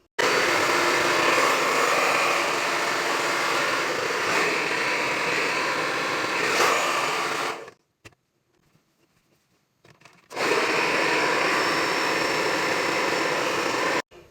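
A handheld hair dryer blows steadily and loudly on curly hair for about eight seconds, cuts out briefly to near silence, then starts again and runs at full strength to the end.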